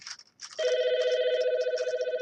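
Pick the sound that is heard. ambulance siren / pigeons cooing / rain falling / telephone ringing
telephone ringing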